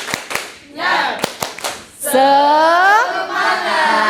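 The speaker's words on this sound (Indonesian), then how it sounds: "Oke, tepuk semangat." A seminar audience in Indonesia performs a rhythmic spirit clap, with a few sharp, loud hand claps followed by voices shouting in unison.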